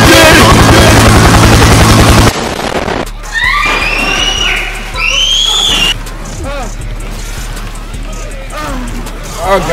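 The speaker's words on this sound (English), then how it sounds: "Helicopter!" A helicopter's rotor drone thrums beneath chaotic Left 4 Dead 2 game noise, with shouting voices and sharp bursts layered on top.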